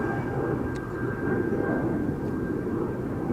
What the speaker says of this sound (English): This is KLM flight 691, now taxiing towards the threshold.